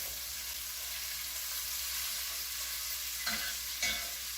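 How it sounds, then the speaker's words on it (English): Onions sizzle steadily in a pan over browned chicken fond while the meal cooks, a constant hiss with two short scraping stirs near the end, fairly close and moderately loud, no talk. "when you throw in the onions, it deglazes that and adds to the delicious flavor"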